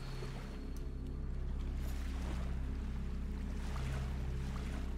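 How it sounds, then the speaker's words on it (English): Steady waves wash against rock in the 2D video game Salt and Sanctuary, a soft continuous surf wash over a low droning hum with no voices. "I awake to the sounds of waves washing on rock"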